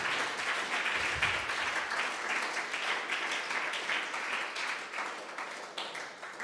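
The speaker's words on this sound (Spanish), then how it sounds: "Démosle palmas al Señor en esta noche." A church congregation applauds steadily during a service, dense clapping filling the whole stretch without a pause, loud and close, with no voices rising above it.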